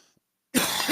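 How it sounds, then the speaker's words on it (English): A single sharp cough bursts out close to the mic after a near-silent pause, loud and rough, filling the last half second. "Ooh, a little cough there. Okay, got a little cough."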